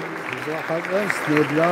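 Crowd at a Caucasian cultural association evening in Kayseri applauds to welcome a performer to the stage, steady clapping under someone speaking into a microphone.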